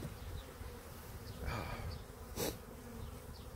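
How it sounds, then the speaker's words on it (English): Honey bees fly around in a loud, continuous buzzing swarm while packages are hived, with a few louder passes as individual bees come close. "So if you thought there was a lot of bees flying around now"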